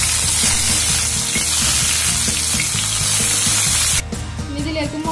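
Ginger and garlic fry in hot oil in a pan, a steady close sizzle that crackles loudly, then drops and thins for the final second as the spattering eases.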